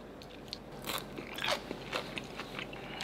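Crunchy bites into a crispy fried Thai mussel pancake, a few close, crackling crunches spread over a few seconds with no talking.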